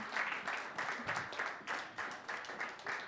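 Steady applause from an audience at a French public gathering, a dense wash of many hands clapping in rhythmic waves, fairly distant and soft throughout.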